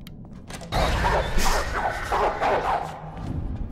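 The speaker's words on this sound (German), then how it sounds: "Der Hund hat sich nicht sehr freundlich angehört." An unfriendly dog in the game Pineview Drive barks and growls close by, a loud string of rough, aggressive barks lasting several seconds.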